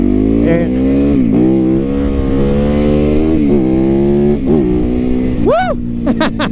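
A Honda Rebel 300 with a 286cc single-cylinder engine revs up loudly and close, its pitch climbing and dropping through several throttle blips and gear changes as the bike is ridden.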